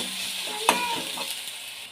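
Spices and tomato are stirred in a cooking pan over a steady sizzle, with a sharp clink of the spoon against the pan near the start and softer scrapes after it.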